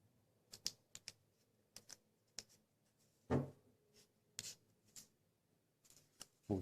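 Sheets of paper are folded into an origami stegosaurus, giving soft crinkles and sharp creasing taps in scattered bursts, close and quiet, with no talking.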